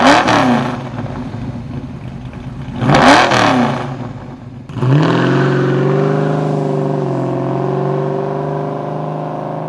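A car exhaust running through a Flowmaster performance muffler built for open-header performance revs hard in short bursts, then settles into a loud, steady, throaty drone, close and with no talk.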